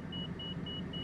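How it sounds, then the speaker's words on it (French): Overspeed alarm in Microsoft Flight Simulator: a thin, high beep repeats four times at a steady quick pace over a continuous low engine drone. "C'est une alarme de survitesse."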